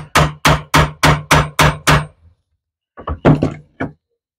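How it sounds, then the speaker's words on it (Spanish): A hammer strikes a chisel into wood, cutting a glass groove, in seven steady, loud blows, then after a pause a few quicker, uneven taps and thumps follow. "vamos a pegarle con el martillo"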